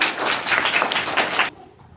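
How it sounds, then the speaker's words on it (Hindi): A short burst of enthusiastic clapping from a group of schoolchildren in a classroom, loud for about a second and a half before cutting off abruptly. "हमारे सहभागिता ग्रुप के लिए जोरदार ताली लगा दीजिए।"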